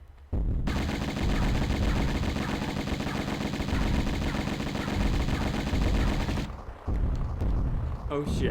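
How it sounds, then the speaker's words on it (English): Rapid, sustained Uzi fire from the Tomb Raider Remastered video game rattles loud and dense for several seconds, then breaks off and resumes briefly, with a man's short exclamation over it. "Shooting Uzis on my way out."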